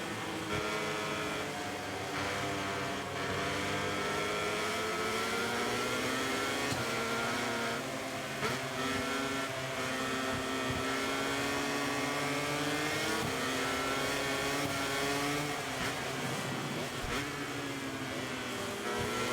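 A Honda MotoGP racing motorcycle in the video game MotoGP 24 revs and strains continuously in mixed weather, a loud, close, high-pitched engine whine rising and falling through gear changes without pause.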